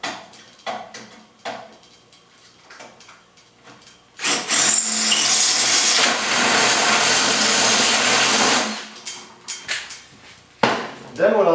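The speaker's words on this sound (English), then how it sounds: "And I'm going to drill that hole in here." A power drill bores a hole through a dock bracket while assembling a dockside livewell, a loud steady whir lasting several seconds between quieter handling clatter and brief knocks.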